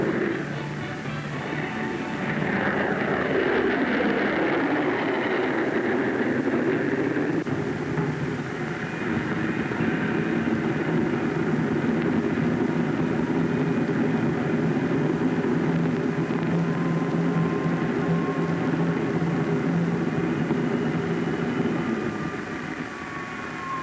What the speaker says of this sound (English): As the airplane set out for its first test flight, it carried with it the hopes and confidence of the men who built it.